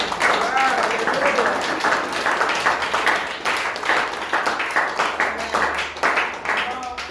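A church congregation claps in steady rhythmic applause, the dense clapping continuing under voices singing and calling out.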